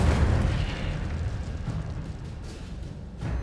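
An Incendio fire spell bursts in Hogwarts Legacy, a deep booming blast that rumbles loudly at first and then fades into a lingering low roar with small pops.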